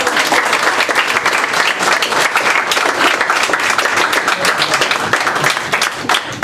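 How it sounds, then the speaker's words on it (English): Loud, dense applause from an audience at a 45th anniversary celebration for a Sonoma community helping group, with steady clapping filling the space throughout and no talk over it. "And that applause is for you"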